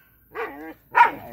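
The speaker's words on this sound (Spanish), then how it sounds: "Cállate el perro, Chilindrino." A dog gives two sharp, close barks about half a second apart, loud against an otherwise quiet room.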